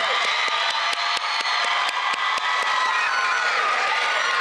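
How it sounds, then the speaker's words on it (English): A graduation ceremony audience applauds and cheers continuously, dense clapping with occasional whoops, fairly close and steady throughout. "could we please give a round of applause for my parents?"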